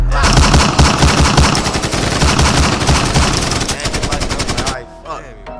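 Rapid gunfire effects rattle through a rap song in dense repeated bursts like machine-gun fire, loud over the beat, before cutting off near the end.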